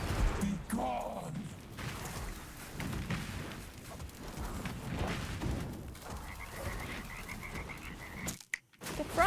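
Frogs croak in a video game raid, their croaks mixed with game effects and thuds while a voice talks over much of the stretch.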